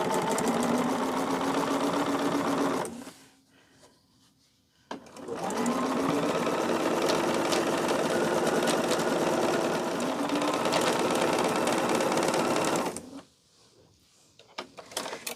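Sewing machine stitching quilt block pieces together, a steady loud whirring run of needle strokes in two long bursts separated by brief pauses.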